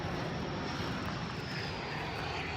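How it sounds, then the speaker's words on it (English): A low-flying airplane passes overhead near the Boca Chica bunkers, a loud, steady engine roar that fills the whole moment without letup and with no voices over it. "Oh my God, look at that, how low that plane is flying."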